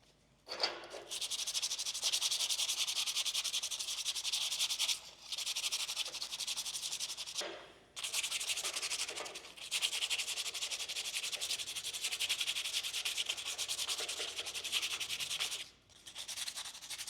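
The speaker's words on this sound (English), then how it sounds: "This is all I had sitting around that's kind of a high grit. It's 320 grit, something fine." A metal hook being hand-sanded with fine 320-grit sandpaper, a steady scratchy rubbing in long continuous strokes with a few brief pauses, close and fairly loud with no talking.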